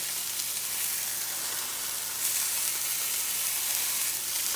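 Steady sizzle of food searing in a Dalstrong 12-inch Avalon Series stainless straight frypan on the stovetop, a continuous close hiss that rises slightly in intensity partway through, with no talking.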